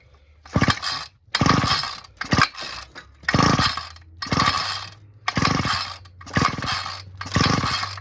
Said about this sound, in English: Squeeze, trigger, and pull rope 5 times